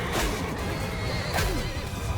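A horse whinnies amid the dense, roaring din of a medieval battle in the Mount and Blade II Bannerlord video game, the neigh partly buried under constant clashing and crowd noise.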